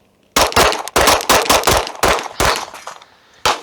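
Rapid string of gunshots from a handgun bill drill at a shooting range, sharp loud cracks fired in quick succession, then a final separate shot after a short pause.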